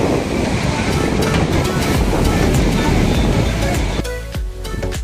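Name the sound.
river waves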